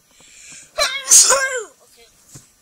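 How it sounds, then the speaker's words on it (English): A single loud, close sneeze in a Roblox game session: a short voiced buildup, then a sharp wheezy burst that trails off, with a faint breathy sound after. "I'm sneezing because I'm hurt."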